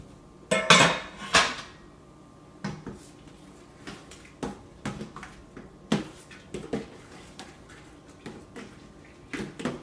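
A spoon knocking and scraping against a pot while brewing mash for an all-grain IPA is stirred, heard as close, irregular clinks and clanks with quiet gaps between them.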